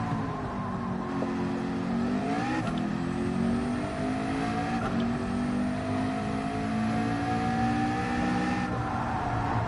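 A Gran Turismo 7 race car engine droning steadily at high revs through a daily race, pitch rising and dipping with gear shifts and lifts, loud and continuous without talk.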